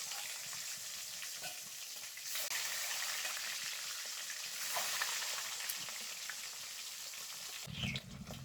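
An egg fries in hot oil in a wok, a steady close crackling sizzle running throughout with small pops and a brief metallic scrape near the end.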